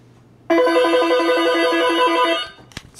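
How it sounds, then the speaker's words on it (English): Several office desk phones on a business phone system ring together in one loud, sustained electronic trill lasting about two seconds, followed by a short click and quiet room noise. "All these phones will ring."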